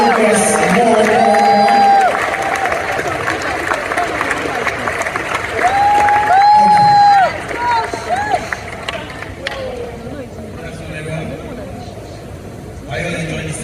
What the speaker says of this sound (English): A round of applause. More.